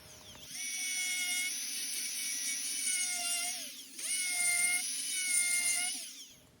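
A Bauer burr rasp spinning in a rotary tool while carving wood, a close, high-pitched electric whine with steady tonal harmonics, in two long passes of about three seconds each, pitch sagging briefly as the burr bites, with no talking.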